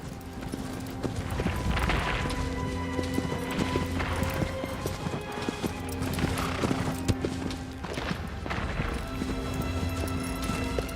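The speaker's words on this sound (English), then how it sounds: "Go, horse, go!" A horse gallops in a video game, its hooves clip-clopping in quick repeated bursts over a busy game soundtrack, with an occasional whinny and no one speaking.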